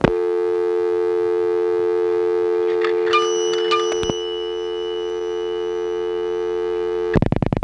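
Telephone dial tone on a 1970s local coin-control payphone line, a steady continuous hum with a few faint clicks and blips in the middle, then a brief break before the tone resumes near the end.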